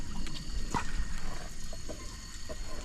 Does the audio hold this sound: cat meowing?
no